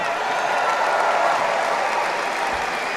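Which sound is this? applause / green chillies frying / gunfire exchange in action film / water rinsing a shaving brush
applause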